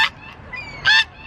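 Geese give two loud, nasal honks outdoors near a spot where people feed birds, with a brief gap between calls.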